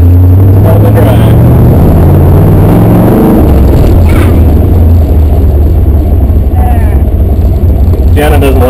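A 1967 Chevrolet Corvette Roadster driving down the road, its loud engine droning and rising in pitch as it accelerates, with wind and road rumble throughout.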